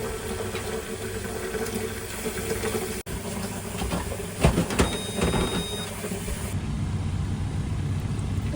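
Water running steadily into a narrowboat's tank at a canal-side water point, a continuous hiss and gurgle with a pump-like hum, a brief knock partway through and a few louder splashes near the middle.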